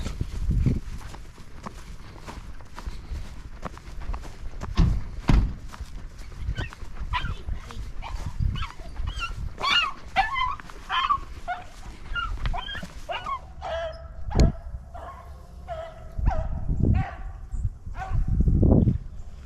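Beagles bark and yelp repeatedly in the distance while chasing a rabbit, an excited chorus rising and falling amid rustling movement outdoors, growing louder toward the end.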